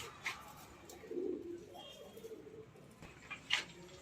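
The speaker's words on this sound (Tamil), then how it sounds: "நிறைய புறாங்க கூட இருக்குது, பார்க்கலாம் எப்படி இருக்குன்னு" Pigeons in a loft give a soft low coo near the middle, with a few faint chirps and small clicks around it in a quiet, somewhat distant setting.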